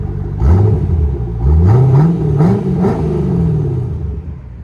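A C4 Corvette's 5.7L V8 revs several times through its exhaust, each rise a deep, loud blip that climbs and then falls away, recorded close and with no talking.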